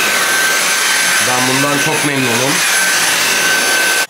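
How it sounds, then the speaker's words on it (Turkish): Dyson vacuum cleaner running in a home, a steady high whine and airflow hiss held throughout, with a person speaking briefly over it in the middle. "Dünyanın en güzel süpürgesi Dyson süpürgesi"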